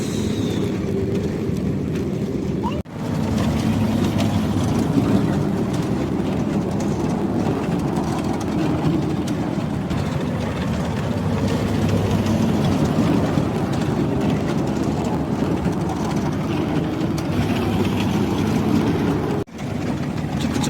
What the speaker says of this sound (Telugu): రైలు వస్తుంది